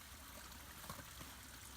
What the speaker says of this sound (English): all this water going down into the ground obviously constitutes significant groundwater recharge. This is always flowing.